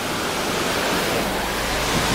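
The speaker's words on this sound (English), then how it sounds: "That's normally a trickle of water, and now it's a babbling brook." A river swollen high after a storm at Holly River State Park, a steady loud broadband rush of water filling the whole clip with no voices.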